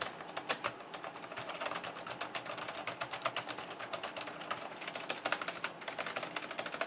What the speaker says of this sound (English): So that's just me typing at a normal speed